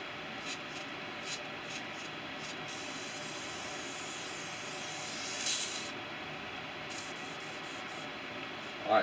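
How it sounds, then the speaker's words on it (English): An airbrush sprays a steady, continuous hiss of air while being cleaned between paint colors on a crankbait lure. A few brief clicks and a slight surge in the spray are audible, and no one speaks. "we're going to clean up the airbrush and add some black"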